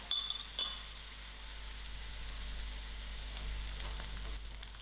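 Curry leaves and whole cumin seeds fry in hot oil in a pan for tomato rice, giving a soft, steady sizzle with a couple of sharper crackles near the start.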